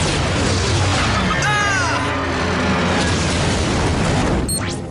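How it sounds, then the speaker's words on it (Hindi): Robot firing lasers with an explosion effect in a Hindi-dubbed Power Rangers SPD episode: a dense, loud, sustained rumbling blast with whooshing laser-like sweeps, heard alone with no talk. "firing ledgers"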